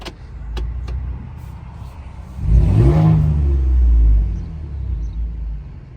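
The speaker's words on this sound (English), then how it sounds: "Them turbos sound crazy as hell." A Ford F150 truck with the 2.7 EcoBoost turbo engine revs hard after a quieter idle, giving a loud, close rumble with a rising turbo whistle that swells, holds for about two seconds and then fades.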